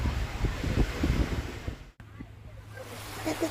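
Ocean waves at Nha Trang beach in Vietnam wash in as a steady broadband surf rush with wind buffeting the microphone, a brief dropout midway, then the wash continues more softly with a low hum beneath.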